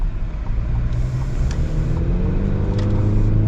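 A new Chevrolet Colorado ZR2 pickup drives with a steady, continuous engine rumble and road drone, loud and close throughout, with no talking.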